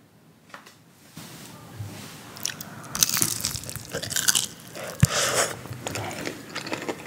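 Mozzarella sticks from a fast-food order bitten and chewed up close, with soft crunching bites and moist chewing in an irregular rhythm in a quiet room.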